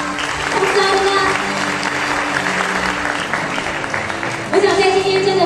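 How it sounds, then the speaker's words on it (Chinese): An audience at a Hyundai launch event in Taiwan claps in sustained, dense applause that fills the room, with a brief dip and renewed burst near the end. "让我们以最热烈的掌声欢迎"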